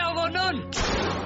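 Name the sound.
gunshots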